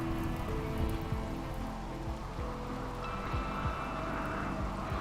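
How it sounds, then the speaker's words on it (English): Steady patter of rain in the video game RimWorld, a soft continuous wash of drops at low level, heard alone without talk. "It's raining"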